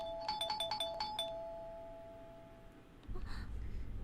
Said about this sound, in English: Whoever was ringing my doorbell was really, really persistent.